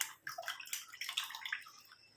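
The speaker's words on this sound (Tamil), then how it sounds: "இப்போ நம்ம இந்த இரும்பு கடாயை நல்லா வாஷ் பண்ணிக்கலாம் தண்ணி ஊற்றி அலம்பிட்டு" Water is poured over an iron kadai to rinse it, a soft splashing and trickling that comes in uneven bursts and stays fairly quiet, close by and with no talk.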